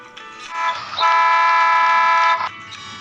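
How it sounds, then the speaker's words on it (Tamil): A school bus horn blares in one long, loud honk lasting about a second and a half, with faint background noise around it. "அவர் வேற ஹார்ன் அடிக்கிறாரு"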